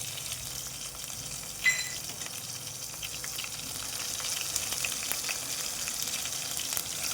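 Cumin, dried red chili and crushed garlic frying in a shallow pan of hot oil, a steady close sizzle throughout with one brief clink early on.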